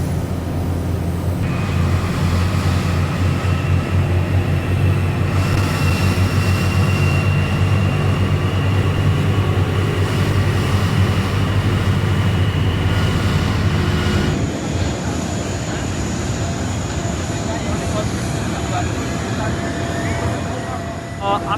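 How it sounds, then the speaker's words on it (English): Jet aircraft engines spool up together during a simultaneous two-engine start on an airport apron, a loud steady roar and whine that shifts in tone partway through and continues without letup. "We start both engines simultaneously."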